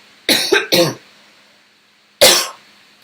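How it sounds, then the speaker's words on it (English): Three quick coughs in a tight burst, then a pause and one more loud cough, close to the microphone. "oh my goodness, sorry for coughing"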